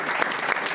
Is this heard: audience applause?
yes